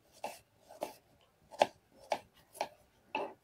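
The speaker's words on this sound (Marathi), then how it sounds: "तो असा बारीक बारीक करून घेतो कांदा असा." A knife chops onion finely on a board in a home kitchen, six crisp separate strokes in an unhurried, slightly uneven rhythm, close and fairly quiet with no talk.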